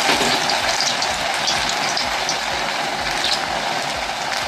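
Potato pakoras fry in hot oil with a loud, dense bubbling sizzle that runs steadily throughout, close and unbroken.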